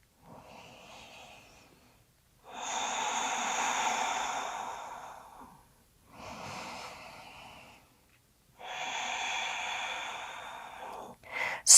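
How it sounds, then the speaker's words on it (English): Slow, deep breaths during a yoga hip-opening hold: two long, audible exhales with quieter inhales between, close and fairly soft, with no talking. "Hold and breathe, deepening the breath."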